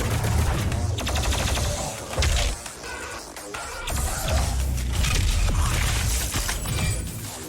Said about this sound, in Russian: Электропушка.